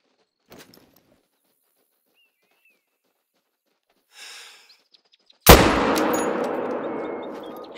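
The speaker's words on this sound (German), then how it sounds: "Oh, jetzt heißt es aber einen perfekten Schuss setzen." Rifle shot fired at a sika deer in the hunting video game The Hunter: Call of the Wild: a single loud, sharp blast near the end with a long ringing tail, after a quiet stretch holding faint clicks and rustles.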